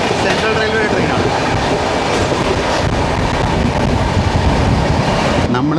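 The Rajdhani Express runs through Delhi at about 122 km/h. From on board, there is a loud, continuous rumble with clickety-clack over the rails, and a brief change near the end.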